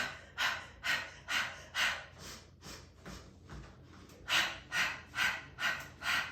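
Rhythmic breathing from someone doing a Pilates reformer exercise on a light spring in a class: about a dozen close, even breaths with a short lull partway through, no talking.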